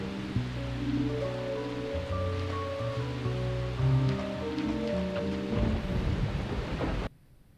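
Steady heavy rain in a video game, with rolling thunder and deep sustained tones, plays for several seconds, then cuts off abruptly into near silence.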